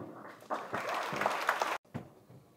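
Audience at a short film launch for Khoon Mein Hai applauds, a dense burst of clapping that cuts off abruptly, then a brief smaller flurry.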